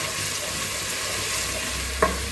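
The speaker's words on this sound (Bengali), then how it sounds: "এটা তেলের সাথে দিয়ে একটু ভেজে নিব আর কি" Ginger garlic paste frying in oil, a steady hissing sizzle with a single clack of a spoon near the end, no speech.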